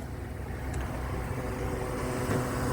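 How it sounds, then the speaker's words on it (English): Radiator cooling fans on a 2017 Honda CR-V run immediately after the ignition is switched on, a steady broadband whooshing hum close by with no speech over it. "The cooling fans are on immediately, which is odd."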